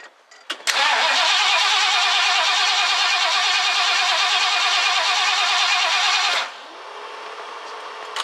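A 1969 Ford Econoline van engine cranks briefly, then catches and roars loudly and steadily for several seconds before dropping abruptly to a quieter idle-like hum.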